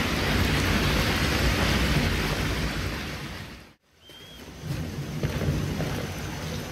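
Steady, dense hiss of heavy rain in the video game Skyrim pours down, cutting out abruptly for a moment before resuming just as strongly.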